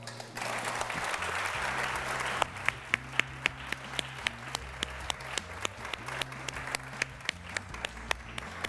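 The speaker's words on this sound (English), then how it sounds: "One more round of applause." Audience applause for a speaker at a talk, steady crowd clapping at first, then thinning into a few individual hand claps at regular intervals over a low musical drone.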